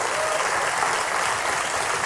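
A studio audience at a German late-night satire show claps in a dense, steady burst of applause that holds at even loudness throughout, with no voices over it.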